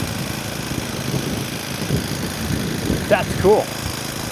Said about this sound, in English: we've got a great idle right out of the box